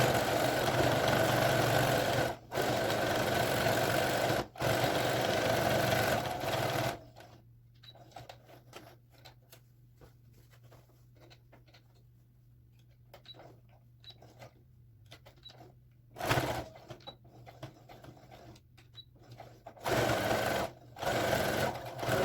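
A sewing machine stitches seat cushion fabric in loud continuous runs, stopping for quieter stretches of faint clicks and handling noise before starting up again in short bursts, close by and without speech.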